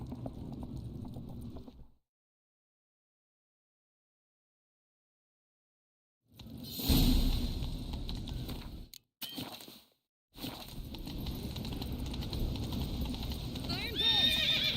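Horse hooves clip-clop at a gallop with a whinny in The Witcher 3: Wild Hunt, broken by a few seconds of silence, then the hoofbeats return amid game sound effects.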